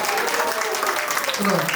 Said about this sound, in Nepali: स्वीकार ताली बजाउनु पर्यो